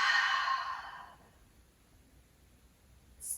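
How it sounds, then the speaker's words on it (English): A long, breathy exhale during yoga relaxation before final rest, close and soft, fading into near silence, with a faint start of another breath at the very end. "Deep breath in, full deep breath out."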